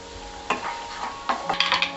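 A spoon stirs turmeric into mushroom masala frying in a pan, giving a few soft scraping strokes with quick clinks near the end over a faint sizzle.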